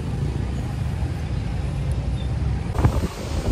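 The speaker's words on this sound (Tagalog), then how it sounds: "Kita nyo, lakas ng hangin dito." Strong wind buffeting the microphone outside a historical church in Iloilo, a steady loud rumble with gusty swells throughout.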